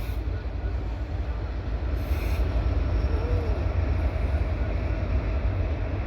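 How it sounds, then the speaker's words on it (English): A freight train hauled by four locomotives rolls past close by, a steady loud rumble of wheels and cars with a brief squeal midway. "Four locomotives."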